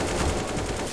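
Rapid gunfire from the video game CS:GO crackles in a dense, loud burst of overlapping shots during a competitive match.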